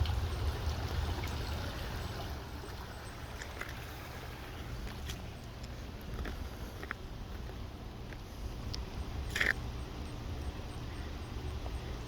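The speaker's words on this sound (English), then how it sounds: "But the whole creek is flooded right now." Steady broadband rush of a flooded creek past fallen trees, constant and moderately loud, with faint scattered ticks and no voices.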